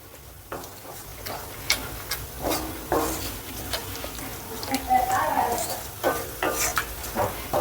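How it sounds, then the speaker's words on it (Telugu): Tamarind and jaggery cook in a pan, with soft sizzling under repeated clicking strokes of a spoon against the pan and a voice talking intermittently. "ఇది బాగా ఒక 2 నుంచి 3 నిమిషాలు వేపుకుందాం"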